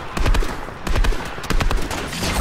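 Close, loud bursts of gunfire in Fortnite Battle Royale, several sharp shots in quick clusters over a couple of seconds with little pause between them.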